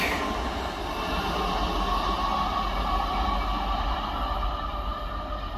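A Malcolm Rail Class 90 electric locomotive runs past at Tamworth on the West Coast Main Line, giving a steady, loud, continuous rumble and rolling rail noise that holds throughout with no speech.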